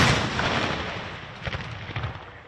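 A ceremonial cannon blast at a Fort Gordon 9/11 memorial rolls out as a loud, booming rumble that fades, with a few sharp echoing cracks toward the end.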